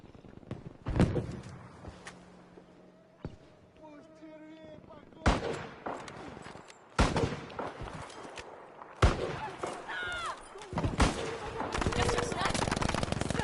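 Heavy booming artillery blasts and gunfire in the video game Battlefield V go off in separate bursts, some sharp and close, with a rumbling battle din building near the end.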